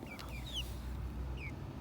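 Six-week-old broiler chickens make a few short, high chirping clucks over a steady low background hum, faint and brief.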